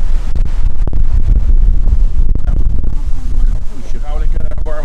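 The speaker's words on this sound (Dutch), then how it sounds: "Het waait ook hard." Strong wind gusting outdoors on a rainy day, buffeting the microphone with a loud, continuous roar throughout, with brief speech nearby.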